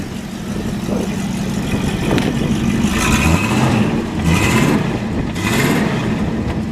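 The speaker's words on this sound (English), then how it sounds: "The stock exhaust, I think it's a 2-in-1, so it's pretty quiet, but we'll have you take a little listen." A 1965 Ford Mustang convertible idles through its stock 2-in-1 exhaust, a steady, fairly quiet low engine rumble with a few brief blips of the throttle, heard up close with no talking.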